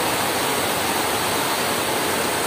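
Rain pours steadily through a poorly made roof onto a concrete catfish pond, a loud, unbroken hiss with no pauses.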